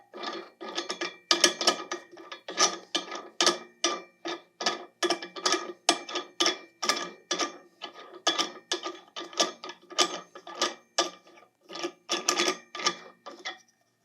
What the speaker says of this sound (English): And then tighten this knob underneath.